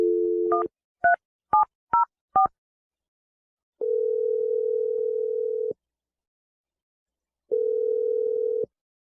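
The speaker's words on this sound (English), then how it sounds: "I'm going to dial the number." A telephone number is punched in on a touch-tone keypad: five short, distinct dialing beeps in quick succession, then two long steady ringback tones separated by a pause, clear and close with no talking.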